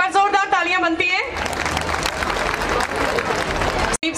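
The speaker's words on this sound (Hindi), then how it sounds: "एक बार जोरदार तालियां बनती है" A school annual day crowd breaks into loud, sustained clapping that swells and continues for several seconds, following a short burst of amplified speech at the start and ending abruptly.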